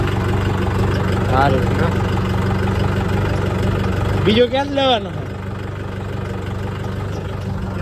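A farm tractor engine idles with a steady low throb, close and continuous, while someone speaks briefly over it near the middle.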